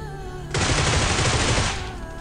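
Burst of heavy gunfire in a PUBG-style battle royale shooter, shredding an enemy's car in a solo ranked match; loud, dense rapid shots lasting over a second before cutting off.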